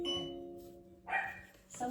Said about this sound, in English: Someone's at the front door doorbell.